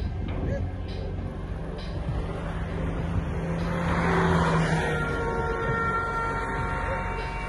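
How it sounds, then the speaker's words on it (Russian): A bus passes on a road during a grizzly bear chase, its engine a broad rising and fading roar with tonal whine, under continuous talking. "О, автобус сбил."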